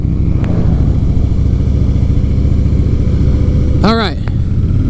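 Harley-Davidson motorcycles rumble steadily while riding, a loud, continuous low engine drone with wind, and a brief whistling or squealing tone rises and falls near the end.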